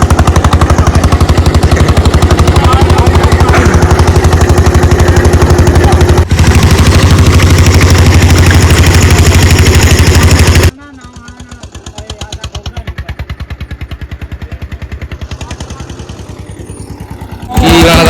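A tractor engine runs during a test, a loud, rapid, pounding diesel chug that fills the first half, then drops to a quieter, steady idle-like thrum before surging loud again at the end; a voice talks over it.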